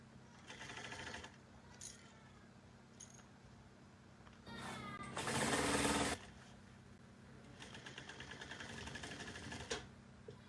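A sewing machine stitches a bucket bag in short runs of rapid mechanical whirring, with one longer, louder burst in the middle and a low steady hum underneath, heard up close.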